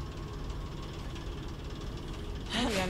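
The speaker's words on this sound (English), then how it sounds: "I hear the generator." A generator runs in the video game Alan Wake 2, a steady, low, chugging hum that drones on under the game's ambience.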